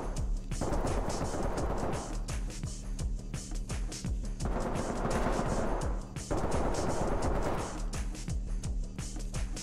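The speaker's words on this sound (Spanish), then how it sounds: "Me ha parecido escuchar los disparos silbando en mi oreja." Gunfire in the SWAT shooter game Ready Or Not comes as loud repeated bursts of shots in clusters, echoing across the scene with no talk.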